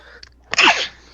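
One sharp, close human sneeze, a brief intake followed by a bright burst, heard alone.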